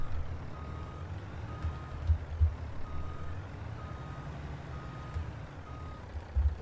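Reversing beeps from a truck backing up to a stock trailer in a farming game, a steady string of evenly spaced tones over a low engine rumble, with a few soft thumps along the way.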